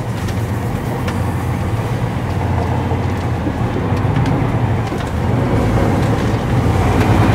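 A DAF CF 450 tipper truck labours up a hill in crawler gear, its diesel engine droning low and steady at close range, the pitch holding level while it climbs.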